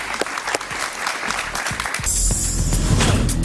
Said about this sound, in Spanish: Un aplauso fuerte para ella, por favor.